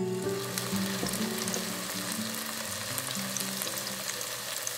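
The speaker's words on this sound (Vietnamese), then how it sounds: "Và mình cho hành cắt khoanh vào áp chảo cho thơm ha." Sliced onions sizzle and crackle steadily in hot oil in a pan for a braised fish dish, a constant, close frying hiss with no talk.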